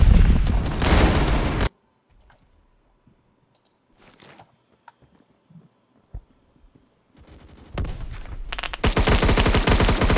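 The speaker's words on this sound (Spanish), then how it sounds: "te he disparado" Rapid gunfire bursts in a Roblox video game: a loud automatic volley at the start, a near-silent stretch with scattered faint clicks and shots, then heavy continuous firing again at the end.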